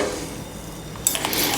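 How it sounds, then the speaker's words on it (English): A sauce whisk scrapes the bottom of a saucepan of heavy cream and sugar as it is mixed, a faint close scrape followed by a brief metallic clink and rattle near the end. "when I'm mixing, I like to touch the bottom of the saucepan"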